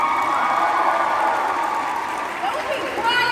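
Steady applause from a comic con Q&A audience, a dense wash of clapping that carries on throughout while someone talks over it close to the microphone.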